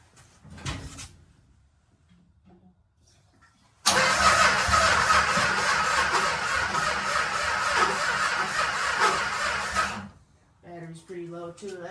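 The engine of a 1965 Plymouth Valiant with a low battery catches and runs with a loud, steady rumble for about six seconds, then cuts off. Voices come briefly before and after.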